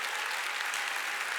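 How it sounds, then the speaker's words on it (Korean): A church congregation applauding during a Wednesday worship service, a dense steady wash of many hands clapping at close range with no talk over it. "깨달은 사람만 박수 치라고요."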